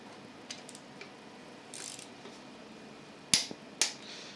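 A wrench tightens a bolt to 20 Nm on a Nissan 350Z engine. A few faint ratchet ticks come first, then two sharp, close metallic clicks about half a second apart, with no talking.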